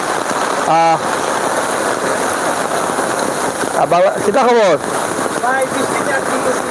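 Steady heavy rain hisses throughout during an evening storm in Sylhet, Bangladesh, with a gusty wash of wind and water; someone briefly speaks and other voices rise over the downpour.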